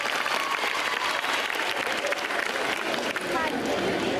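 An audience at a school annual day claps in sustained, dense applause, loud and steady throughout, with voices blended into the crowd noise.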